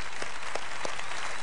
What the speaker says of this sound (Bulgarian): Имай такива аплодисмент за тях.